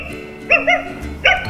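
A smart multifunctional toy robot dog lets out short electronic barks, a pair of quick yips followed by another after a brief pause, close and clear with no talking over them.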